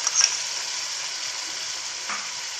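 Green beans sizzle and fry in a hot pan with vegetables for coconut palav, a steady close hiss with a brief scrape of stirring near the start and again later.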